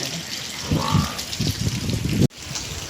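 Steady rain falls outdoors on a rainy Sunday, a dense continuous hiss of drops on surfaces with a voice talking over it, broken by one brief dropout near the end.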